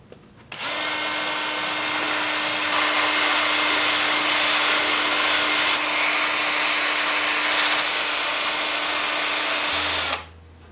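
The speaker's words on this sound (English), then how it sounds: "So I will sand this up over here on the workbench." Power sanding of a very thin wood-turned cedar bowl at a workbench, a loud steady whirring hiss that holds for about ten seconds and then cuts off.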